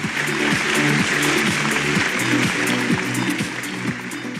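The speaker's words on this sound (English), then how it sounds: "let's give her a round of applause" Audience applause at a masterclass session, steady clapping throughout over a low repeating musical hum, moderately loud and fairly even.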